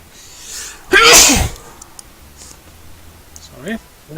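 A single loud, sharp sneeze bursts out close to the microphone, followed by quiet room noise and a little soft speech afterward.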